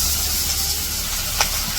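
Cooking oil heats in a wok before pabda fish goes in to fry, giving a steady, fairly loud sizzling hiss throughout with one brief sharp crackle, and no voices.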